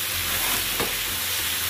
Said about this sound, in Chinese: 冬瓜要给它提前煸一下才香